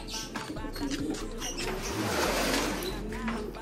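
Pigeons coo softly at close range, their low murmuring calls repeating over a brief stretch, joined by a few faint chirps and light background rustle.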